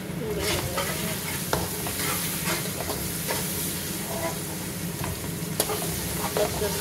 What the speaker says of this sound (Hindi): बस जल्दी से ब्राउन हो जाएंगे प्याज।